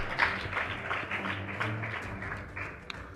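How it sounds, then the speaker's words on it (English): Audience applauding a school debate team at an awards announcement, a dense, sustained wash of clapping from a crowd in a hall, moderately loud and even throughout. "Please give them a round of applause."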